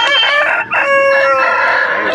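A rooster crows once, loud and close, in a drawn-out call at a rooster market in Vijayawada. No other sound competes with it.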